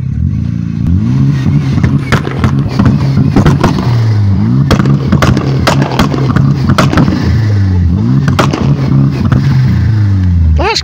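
A van engine revving hard from a standstill in first gear with the clutch held for a launch control start, loud and close, rising and falling in repeated surges with clattering bursts over several seconds.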